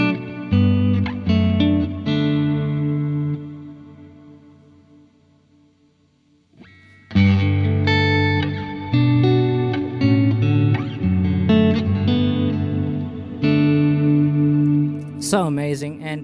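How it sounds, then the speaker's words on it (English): Electric guitar played through a Revelation Reverb version 3 pedal on its modulated reverb setting: strummed chords that swell and decay into a long shimmering tail, then a louder sustained passage with wavering, chorus-like ambience. "Like I demonstrated, it's on the modulate reverb that I've got on most of the time."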